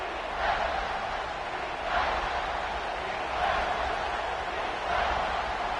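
Steady roar of a stadium crowd at a football game, a dense continuous wash of voices swelling in waves every second or two, with no clear talk above it.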